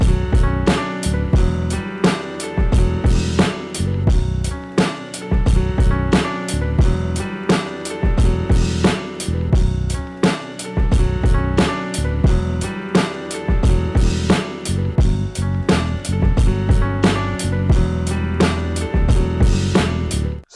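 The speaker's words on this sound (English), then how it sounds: "let's go ahead and listen to what we have so far, which is the drums, sample, and bass line." A boom bap hip-hop beat plays back continuously: punchy drums, a looped melodic sample and a bass line, dense and loud throughout with no voices.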